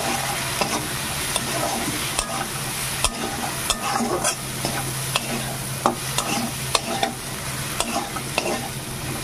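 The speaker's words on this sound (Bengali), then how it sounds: "চিংড়ি মাছ খুব বেশি ভাজার প্রয়োজন নেই" Shrimp sizzle steadily in a hot pan while being stirred for a pumpkin-leaf dish, with regular scraping strokes of the spatula cutting through the continuous frying hiss; no one speaks.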